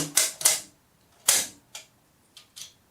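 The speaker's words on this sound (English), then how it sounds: "you insert your stripper clip and you push down" An M1A rifle is loaded by pushing rounds down from a stripper clip, giving a few sharp metallic clacks and snaps. Two quick clicks come close together, then a louder one, then fainter clicks, all close and with nothing else audible.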